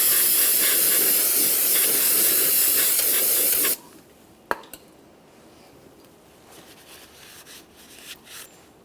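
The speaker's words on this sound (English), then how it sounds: "I'm just going to use some parts cleaner and a clean rag." Parts cleaner sprays in a loud, continuous hiss for nearly four seconds during front axle seal work on a 2015-2020 Cadillac Escalade, then cuts off to near quiet with a sharp click and faint handling noises.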